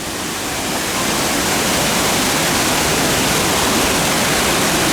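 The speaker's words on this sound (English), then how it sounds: "And stuff like this, like another giant waterfall" A giant waterfall at Disney California Adventure park roars nearby as a steady, loud, unbroken rush of falling water that swells slightly at the start and then holds even.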